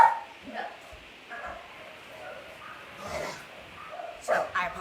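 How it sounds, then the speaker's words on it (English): A dog barks several times in short bursts, mid-distance, with yips mixed in while a person talks over it. "I apologize about my dog."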